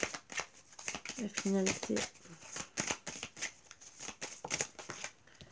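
Tarot cards riffled and flicked in quick papery bursts near the microphone, mixed with rustling as cards are drawn, under someone speaking French throughout.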